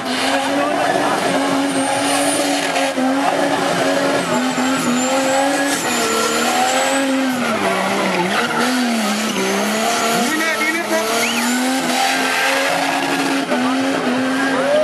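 A car performs radical stunt maneuvers at a smoky street car meet, its engine droning loud and steady while tires squeal and skid continuously, with a crowd and occasional voices faintly underneath.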